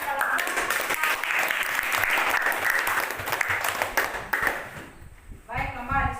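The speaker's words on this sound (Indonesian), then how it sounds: "Ya, tepuk tangan untuk kelompok" Classroom students clap for a group after a presentation, a lively burst of applause that fades out, followed by a voice speaking.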